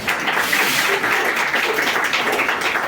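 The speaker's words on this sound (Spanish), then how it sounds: "Un aplauso para nuestro Dios." Dense applause from a crowd at a community anniversary celebration, steady and fairly loud throughout, with many hands clapping at once.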